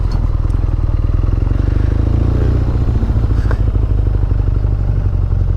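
A 2019 BMW R nineT Scrambler motorcycle idles close by with a loud, steady low rumble that wavers unevenly as the engine stumbles, with no talk over it.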